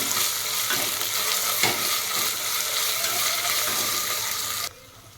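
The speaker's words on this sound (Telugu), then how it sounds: "ఇప్పుడు ఇలా రెండు టేబుల్ స్పూన్ల రెండు టేబుల్ స్పూన్ల అల్లం పేస్ట్ వేసుకోవాలండి ఇది మంచిగా ఫ్రై చేసుకోవాలి" Ginger paste frying in a pressure cooker for chicken biryani: a loud, continuous sizzle with scraping stirs, cutting to a much quieter background just before the end.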